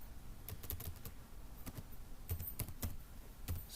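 Fingers tap out a web address on a computer keyboard during insurance portal registration, sounding as irregular bursts of close, soft keystrokes with brief pauses and no talking.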